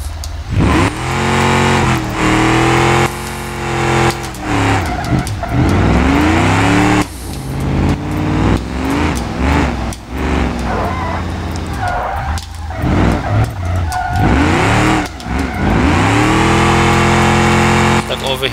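A damaged, overheating car engine with a leaking radiator in the BeamNG.drive driving game revs and strains loudly in repeated rising and falling bursts, while someone talks over it.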